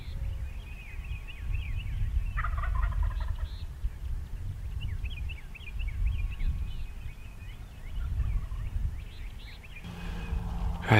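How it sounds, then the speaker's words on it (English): Outdoor morning ambience full of chirping songbirds, with a distant wild turkey gobble rising briefly amid the chorus over steady low rumble. "hopefully the next thing you see or hear will be some gobbles and some turkeys"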